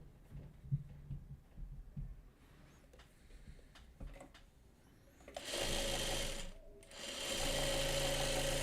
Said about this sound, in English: let me sew 2 crumb pieces together, like these two.